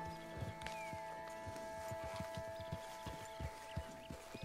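Horse in the video game Red Dead Redemption 2, rhythmic hoof clip-clops walking at a steady pace, with faint snorts and soft background game ambience.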